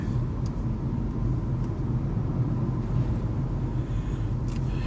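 Steady roadside car traffic rumbles past continuously at moderate distance, a dense low wash of engine and tire noise with no pauses.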